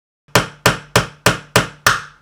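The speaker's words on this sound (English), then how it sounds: "So I went and had to absolutely hammer it." Six sharp, loud hammer blows at an even pace drive a stubborn 3D printed part of a Star Wars Boba Fett ship model into place, each strike ringing briefly before the next.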